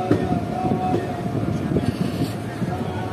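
A goods train rumbles past nearby in light rain, heard from a halted passenger express train, with continuous low rolling and clatter, steady and loud throughout.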